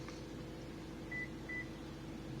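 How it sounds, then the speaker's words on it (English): Two short, even electronic beeps from a Toyota Corolla smart key registration sound close together over a steady low hum, followed by a brief click at the end. "I heard the beep"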